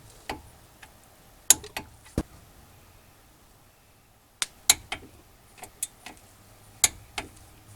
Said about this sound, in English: Then we're going to torque these to 72 foot-pounds.